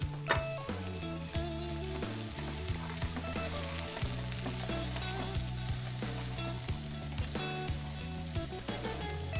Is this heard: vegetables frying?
yes